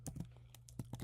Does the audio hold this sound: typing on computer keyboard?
yes